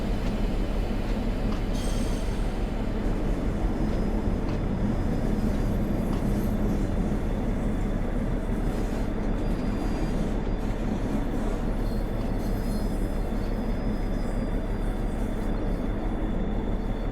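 A DB G6 locomotive in Train Sim World 2 rumbles steadily while braking to a halt, with a low, continuous roar and faint metallic squeals from the wheels, close and loud, holding an even level throughout.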